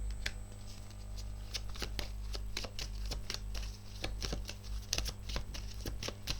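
Tarot cards being shuffled by hand, a continuous crisp riffling and slapping of cards in quick irregular strokes, close and clear over a low steady background hum, with no talk.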